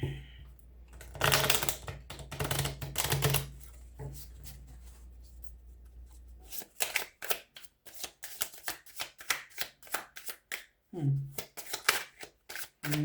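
Bursts of card shuffling, a riffle followed by rapid crisp flutters and taps, with a voice speaking briefly near the start.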